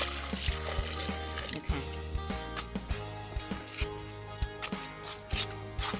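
Tap water runs and splashes into a container to soak cut vegetables, a close, steady pour with bright splashing and scattered drips over several seconds.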